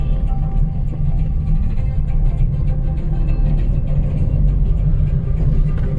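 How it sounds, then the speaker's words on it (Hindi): A car drives slowly at night along a narrow forest road crowded with pilgrimage traffic, its engine a steady, close low rumble with an even road drone and no voices. "गाड़ी भी धीमे चलानी पड़ रही है क्योंकि रोड में जगह कम है"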